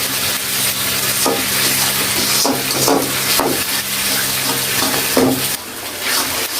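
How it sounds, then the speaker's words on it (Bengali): Spicy desi chicken with soy sauce frying and being stirred in a pan, a steady loud sizzle broken by repeated scrapes and knocks of the spoon against the pan, with no talking. "মাংসটা প্রায় আমাদের কষানো হয়ে গেছে"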